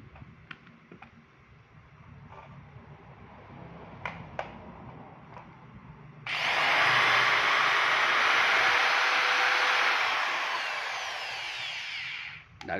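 A cordless drill with a 10 mm chuck and reversible variable speed sits quiet amid faint clicks, then starts up loudly and runs at a steady whine for about six seconds before stopping.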